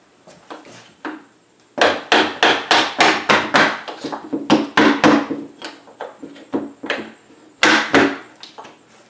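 A rapid series of sharp plastic hammer blows knocking on a piece of wood during a picture window replacement, about a dozen strikes in quick bursts with short pauses between groups.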